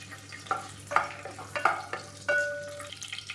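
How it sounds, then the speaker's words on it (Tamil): Cardamom, clove and cinnamon crackle in hot oil for tempering, a close sizzle broken by several sharp pops and stirring scrapes of a spoon against the pan. "இப்போ எல்லாமே நல்லா பொரிஞ்சிருச்சு"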